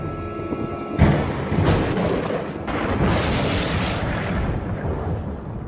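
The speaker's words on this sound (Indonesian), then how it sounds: "Lalu ada sebuah petir menyambar di dekat rumah Alex." A lightning strike and thunder in a film land as a sudden loud crack, then a heavy rolling rumble that surges again midway and keeps booming without a break.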